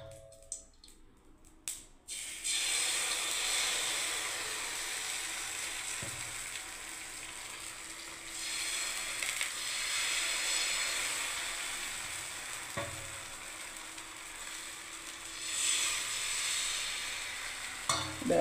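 Vegetable pitha fries in oil in a pan for a breakfast batch, giving a steady close sizzle with occasional stirring and scraping clicks. Faint handling noises come first, then the frying runs continuously.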